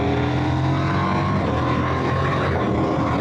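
A motorcycle is ridden carefully over a road covered in salt and sand. Its engine drones loud and close, a steady, continuous tone with no one talking.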